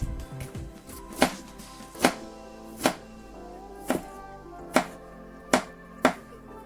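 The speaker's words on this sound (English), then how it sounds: "Now, I'm going to crush 2 garlic." Two garlic cloves crushed under the flat of a knife on a board, about seven sharp, evenly spaced thuds and cracks, close and fairly loud, with no talking.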